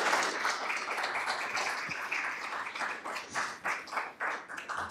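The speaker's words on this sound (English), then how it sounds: "A round of applause for Dr. Annett" Audience applause after a lecture on Catholic tradition and economics: dense, continuous clapping from a crowd in a hall, steady throughout and breaking into slightly more distinct individual claps toward the end, with no talking.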